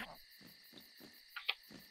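A creature's call sounds in the CreaVures video game, a few short chirps over a steady rhythmic pulsing and high ambient tone, quiet overall.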